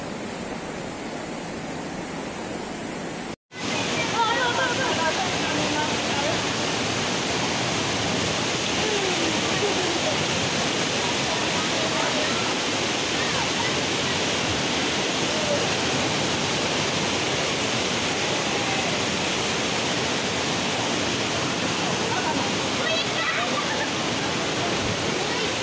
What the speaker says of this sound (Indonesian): Debit air Sungai Kringi pagi ini.